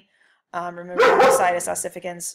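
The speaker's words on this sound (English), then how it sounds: "sorry about the dog." A dog barks and yips in the background while a lecturer keeps talking over it, the barks coming in a short cluster of sharp, fairly loud calls.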